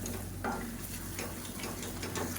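Onion thokku being stirred in a pan, a soft steady sizzle with faint, irregular scraping strokes of a spoon, fairly quiet throughout.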